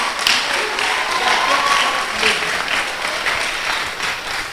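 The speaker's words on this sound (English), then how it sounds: "Clap, clap, clap." An audience at a church conference applauds warmly, a dense, even wash of clapping that holds steady and fades slightly at the end, with a few voices faintly mixed in.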